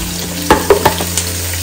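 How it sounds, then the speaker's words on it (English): Saltfish sizzling steadily in a hot pan for a Jamaican saltfish and cabbage breakfast, with a few short scraping stirs against the pan over the constant frying hiss, close and fairly loud. "Now, I'm going to go ahead and add my saltfish."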